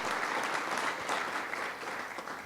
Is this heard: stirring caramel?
no